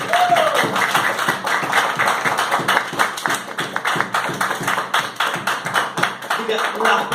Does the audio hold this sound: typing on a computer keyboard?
no